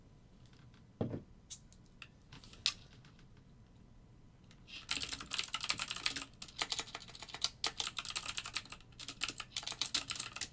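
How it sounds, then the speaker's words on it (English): Rapid typing on a computer keyboard whose battery is running low, first a few sparse key clicks, then a dense run of quick close keystrokes in a quiet room. "when the battery of my keyboard starts to go low, it will just miss letters that I'm typing"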